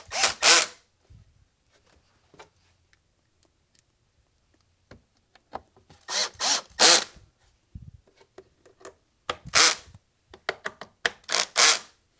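Power drill bolting bumpers back in during a GT lower kit install, several short bursts of whirring spaced out over quiet gaps, with faint clicks and handling noises between.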